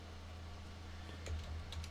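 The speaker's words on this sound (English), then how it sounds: "Typing in trap." Soft keystrokes on a computer keyboard, a short burst of several quick taps near the end, faint against a steady low hum of room noise.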